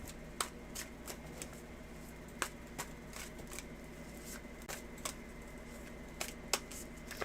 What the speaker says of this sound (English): I'm going to start to shuffle these bastards right now.